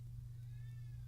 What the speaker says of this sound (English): I can hear a cat meowing outside.